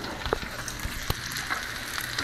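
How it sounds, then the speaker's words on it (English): Onions sizzling as they hit browned butter in a pan for French onion soup, a steady crackling fry with sharp pops and a few clinks of a utensil, close and fairly loud. "I'm going to go ahead and add the onions to the browned butter."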